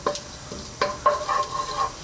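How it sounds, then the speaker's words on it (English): Cumin seeds sizzle in hot sunflower oil, giving a soft, steady crackle broken by sharp pops and a stirring scrape. The sound is close and fairly quiet, with no talk. "And in goes those cumin seeds. Just let them do their thing for a few seconds into the hot oil."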